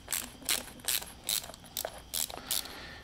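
A ratchet wrench clicks in about seven short, crisp bursts, evenly spaced, while loosening the float bowl nut on a dead lawn mower's carburetor, close and moderately loud with no talking.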